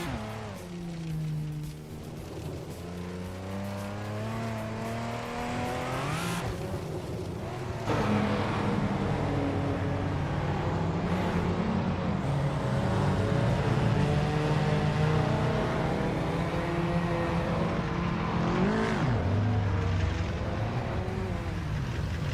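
Several race cars in a racing video game, among them a 1980 Lotus S6 Turbo Esprit, drone steadily with overlapping engine tones that rise and fall through gear changes, loud and continuous with no talking.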